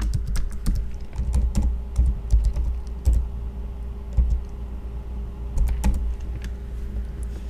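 Keys clatter on a computer keyboard in quick, uneven bursts of clicks, up close over a steady low hum, with no voices.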